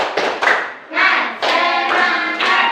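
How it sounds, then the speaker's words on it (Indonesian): Group "tepuk semangat" rhythmic clapping by a class, several loud unison bursts of hands in a patterned beat, near and strong, mixed with chanted voices. "Kita tepuk semangat dulu sama-sama."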